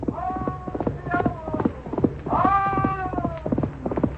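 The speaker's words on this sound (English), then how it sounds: "his great black stallion fled over the prairie" Galloping horse hooves in a radio drama sound effect pound out a rapid, regular beat across the prairie, with a horse's cry rising midway through the steady hoofbeats.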